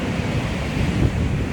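Ocean waves break on the shore in a continuous loud roar of surf, with wind buffeting the microphone throughout.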